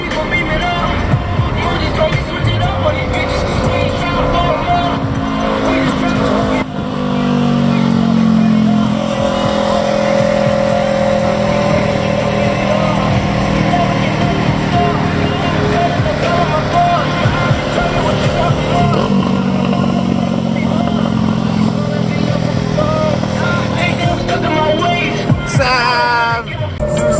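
A Mercedes SLK's engine and exhaust run at a steady low rumble, with a brief swell in revs partway through, close and continuous, while a person talks over it.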